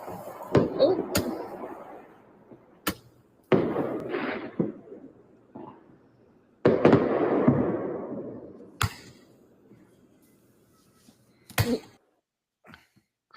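Fireworks going off outside in the distance, sounding as a scattered series of sharp cracks and booming pops with rumbling tails, irregularly spaced, some louder and closer than others.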